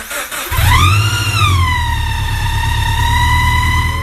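A Subaru BRZ fitted with a Kraftwerks C30 supercharger revs up loudly and holds a high, whining engine note, with a strong rising whine that levels off into a sustained, abnormal-sounding tone close by.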